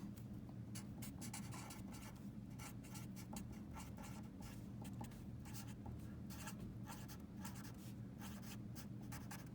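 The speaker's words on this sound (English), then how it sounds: "I'm going to just write that down here." Pen strokes scratch steadily as a number is written down by hand, a rapid series of short scribbles over a low, constant background hum, faint and close, with no talk.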